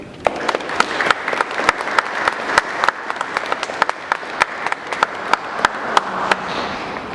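Audience at a baptism clapping in steady applause, many hands producing dense crackling claps throughout with sharper individual claps standing out, fairly close and continuous.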